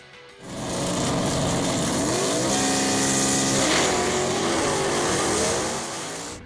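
A 1962 Pontiac Catalina Super Duty with a 421 V8 engine, running loud and close with a dense, sustained roar that rises in pitch as it revs, then eases off near the end.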